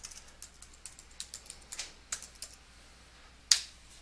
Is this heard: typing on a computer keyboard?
yes